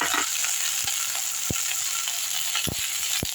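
Coriander and mint sautéing with drumstick leaves in a pan for chutney: a constant close hiss of frying broken by a few sharp utensil clicks and taps.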